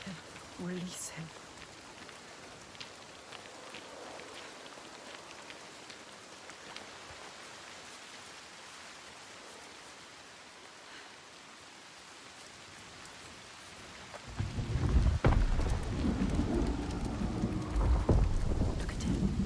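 Steady rain and a rumbling thunderstorm in the video game Senua's Saga: Hellblade II, a constant hiss of rainfall that swells into a heavy, louder downpour with deep rumble near the end.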